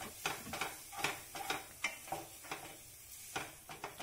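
Chicken and Maggi noodles being stirred in a pan, a spoon scraping in quick irregular strokes at close range over a faint sizzle, with no voices.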